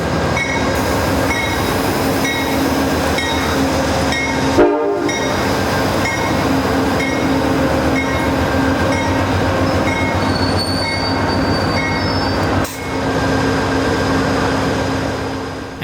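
An Amtrak Wolverine passenger train at Jackson Station, Michigan, rumbles close by with squealing wheels and a steady horn tone, and a brief sharp clunk partway through.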